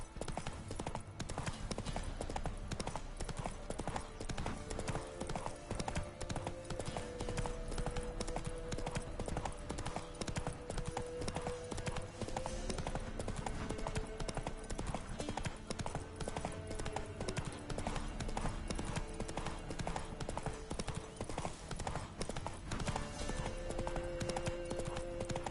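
Roach the horse gallops in The Witcher 3, a continuous rapid clip-clop of hooves with steady even rhythm, loud and close throughout.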